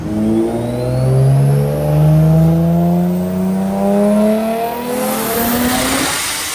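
A 700+ horsepower drift car engine revs hard in repeated rising surges, loud and close, its pitch climbing and falling with each push of the throttle.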